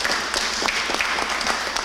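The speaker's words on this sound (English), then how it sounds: "Let's give him a round of applause." Steady applause from an audience at a mayor's bill-signing ceremony, a dense, continuous patter of many hands clapping at moderate volume with no pauses.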